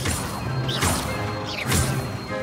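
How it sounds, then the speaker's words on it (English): Incendio fire spell cast with a wand in Hogwarts Legacy, two loud whooshing crashes about a second apart over a busy game background with music. "Incendio."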